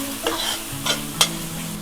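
Sliced tomatoes and green chillies hiss steadily in a hot pan while being cooked for chicken tikka biryani, with three quick scraping stirs cutting through the sizzle at close range.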